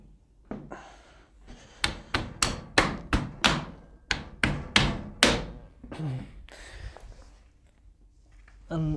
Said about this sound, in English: Okay, so now we need to replace the lid. Just slots in at the front.